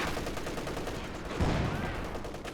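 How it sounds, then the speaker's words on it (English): Battle sounds from Company of Heroes 2 as an infantry support gun opens a barrage, with dense overlapping gunfire and a heavier thump of a shell landing midway, all steady and loud. "ISG's right there, needs to start firing. And there it goes, it's starting the barrage now."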